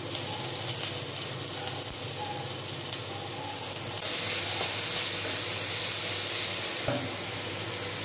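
Green chilies, garlic and ginger fry in hot oil in a pan for egg biryani, sizzling steadily and close up with faint stirring scrapes and no talking.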